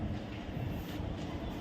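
Interior of the Kondaveedu Express train travelling toward Vijayawada, a steady low rumble of carriages and wheels on the rails, moderately loud and continuous, with no voices.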